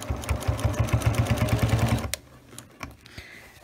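A sewing machine fitted with a walking foot runs fast through a leather thigh boot seam, a close rhythmic chatter for about two seconds, then stops with a few clicks and handling noises.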